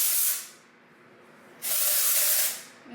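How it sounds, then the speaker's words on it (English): Two hissing bursts of hairspray aimed at wavy hair, close and loud, the first short and the second longer, separated by a quiet pause. "Let me spray it this way so I don't get it on my lenses."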